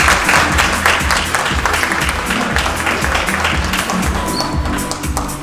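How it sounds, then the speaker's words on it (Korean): An audience at a Kia event with Rafael Nadal breaks into loud, sustained applause, a thick continuous clatter of clapping that tapers off slightly toward the end. "여러분들 큰 박수 부탁드리겠습니다"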